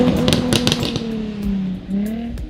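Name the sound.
Jaguar F-Type Coupe V6 exhaust note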